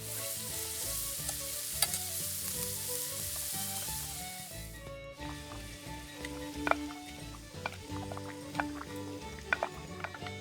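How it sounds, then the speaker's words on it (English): Hash patties made with salt pork and allspice sizzle and fry in a frying pan, a steady crackling hiss with scattered pops and spatters, close and fairly quiet, heard alone without talk. "I'm going to form this up into patties and fry it in our frying pan."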